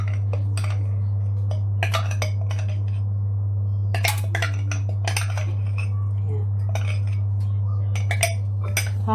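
Condensed milk for Pinoy leche flan being stirred in a bowl, a utensil clinking and scraping against the sides in irregular taps over a steady low hum.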